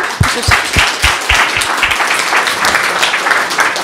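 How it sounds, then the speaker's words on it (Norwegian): An audience at a seminar breaks into applause, starting with a few distinct claps that quickly swell into steady, dense clapping from many hands. "Skal vi klappe for Henrik uh, her nå?"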